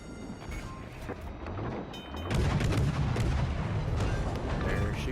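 Guns of the Weymouth, a tier 1 warship in World of Warships, firing in a game, with a rapid series of booming shots and then a heavier, sustained rumbling volley.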